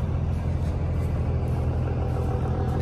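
A car on the road, driving in Canada, heard from inside as a steady low engine and road rumble that holds even and continuous throughout with no talking.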